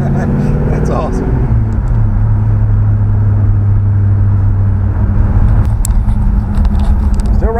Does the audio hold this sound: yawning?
no